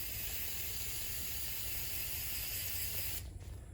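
Steady broad hiss of liquid being sprayed from a nozzle onto a school bus floor, continuous for several seconds, then cutting off abruptly near the end.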